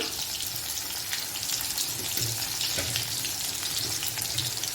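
Tender fresh spring onion greens frying in hot oil with cumin over a low gas flame, a dense continuous hiss and crackle up close, with faint stirring knocks underneath.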